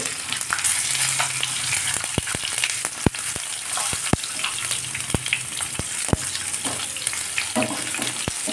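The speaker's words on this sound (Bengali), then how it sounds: "কেটে রাখা একটা টমেটো দিয়ে দেওয়া হলো" Chopped tomato and whole cumin fry in a pan with a steady close sizzle, broken by sharp clicks of a utensil stirring against the pan at irregular intervals, with no one speaking.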